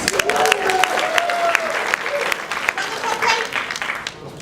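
An audience at a comedy show breaks into steady, sustained applause with a few whoops, as a voice carries over the clapping near the start.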